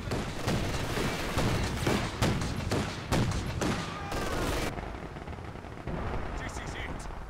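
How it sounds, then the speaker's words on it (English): Machine-gun fire and heavier battlefield blasts in the WWII strategy game Company of Heroes 2 at the Port of Hamburg, a string of sharp bursts and booms over several seconds with someone talking over them. "machine gun. Machine guns?"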